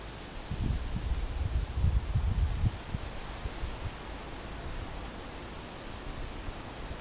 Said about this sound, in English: the wind rustling in the trees